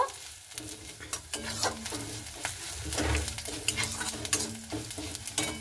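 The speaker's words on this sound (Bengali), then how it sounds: "এবার কালো জিরেটাকে দিয়ে একটু ভালো মতো করে নাড়াচাড়া করে নেব।" Onion and black cumin seeds fry in a pan for a spinach dish while a utensil stirs them, giving a steady close sizzle broken by repeated scraping strokes.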